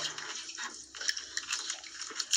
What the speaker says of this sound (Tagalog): Grabe agos ngayon ah. Lakas ng agos